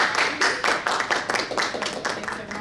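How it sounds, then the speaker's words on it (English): A small audience at a women's inspirational group gathering claps in a loose, uneven patter of close, moderately loud hand claps that thins out toward the end. "I'd like to give a round of applause for Lisa Robinson"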